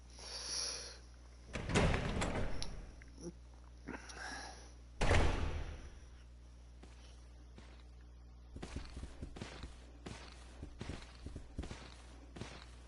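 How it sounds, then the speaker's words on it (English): A door opens in the video game Resident Evil 0, heard as two heavy creaking swings a few seconds apart, followed by quieter scattered footsteps over a low ambient drone. "Ah, door's open."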